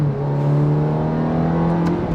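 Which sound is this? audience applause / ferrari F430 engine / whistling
ferrari F430 engine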